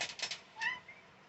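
A cat gives a short meow, faint and close, after a few quick soft scratching taps, with a quiet tail of sound afterward.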